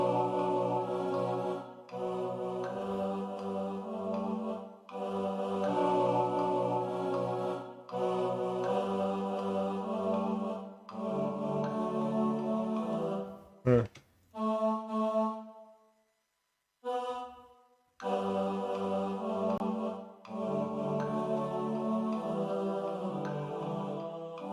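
Synthetic notation-software playback of an a cappella choir arrangement of a song, sustained vocal-like chords moving in steady rhythm, with a short sparse stretch of isolated notes and near-silence midway before the full texture returns.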